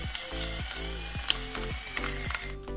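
Black pepper grinding in a pepper mill, a loud close ratcheting crunch repeating in regular twists, with no talk.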